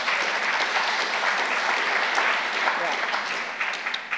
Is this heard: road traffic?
no